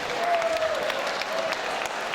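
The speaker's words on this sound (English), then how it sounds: "Big round of applause for Vandenis, please" Crowd at an amateur boxing tournament applauds steadily from a distance, a dense wash of clapping that carries on evenly throughout, with a faint voice and a brief whistle-like tone over it.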